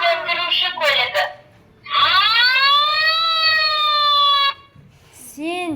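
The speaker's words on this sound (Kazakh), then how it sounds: "Өрт сөндіруші көлігі." A fire engine siren's rising, then steady wail holds for about three seconds between bursts of children's and adults' voices; the wail is loud, close and may be a toy.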